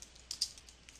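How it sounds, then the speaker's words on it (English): Typing on a computer keyboard: a couple of faint, quick key clicks close by over a quiet room hum. "right at the beginning of here I'm going to start typing something"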